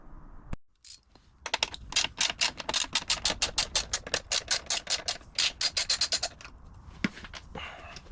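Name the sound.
wrench removing bolt on Harley Davidson Road King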